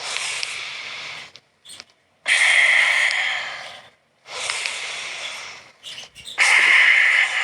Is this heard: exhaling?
yes